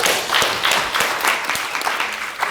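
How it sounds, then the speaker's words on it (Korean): Audience applause at a seminar on suicide prevention, a steady wash of many hands clapping that fills the room at even strength for the whole stretch, with no voices over it. "박수 부탁드리겠습니다."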